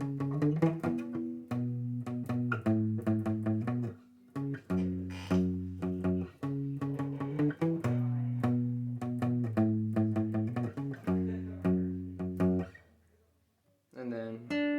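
An electric guitar plays a riff from a song in repeated chordal phrases, recorded close and moderately quiet, with brief pauses between phrases and a near-silent gap before a final strum.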